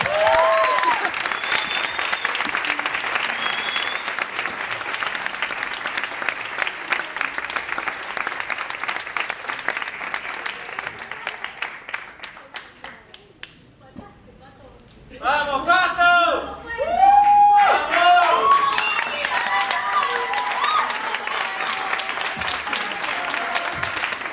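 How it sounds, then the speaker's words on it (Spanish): An audience at a live song performance applauds in a long, steady burst of clapping that fades out, followed by a voice speaking and then renewed clapping. "Un aplauso, por favor."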